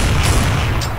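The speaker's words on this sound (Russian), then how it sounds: "Кидаю гранату." A grenade bursts in Counter-Strike: Source, one loud, close, muffled boom with a heavy low rumble filling the whole brief moment.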